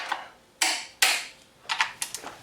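A torque wrench tightens valve cover bolts to spec on a 2012 BMW 335i E93, giving a few sharp mechanical clicks and short ratcheting bursts, close and fairly loud with quiet gaps between them.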